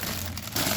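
Plastic bags from a Gunpla model kit (HG 1/144 Dom Test Type) crinkle and rustle close up in a brief, dense burst that swells louder in its second half, with no talking.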